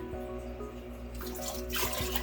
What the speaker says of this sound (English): going to add 1 cup of water for each cup of rice that is in here